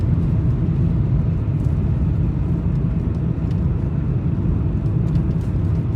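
A car drives through the village of Shchelkun in Sverdlovsk Oblast, heard from inside as a steady, loud low rumble of engine and tyres on the road that holds constant, with no voices.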